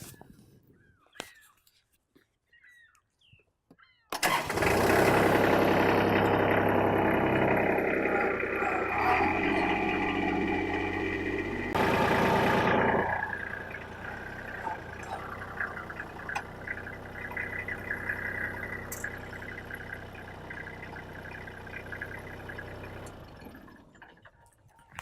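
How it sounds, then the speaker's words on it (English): A tractor engine turns over after a few quiet clicks and catches, then runs at a loud, steady idle with a brief surge before settling and cutting off near the end. "You press the brake and the clutch firmly, and then turn on the ignition key."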